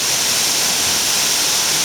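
Tad Dao waterfall in Si Satchanalai National Park, Sukhothai, roars as a loud, constant rush of falling water, a broad unbroken hiss heard up close with no voices.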